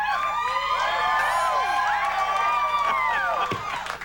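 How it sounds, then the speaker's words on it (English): A late-night talk show studio audience cheering and whooping loudly, a dense sustained wave of shouts and applause that fades slightly at the end. "How dare they cheer for me while you're out here?"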